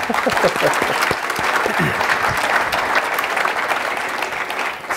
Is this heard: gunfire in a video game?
no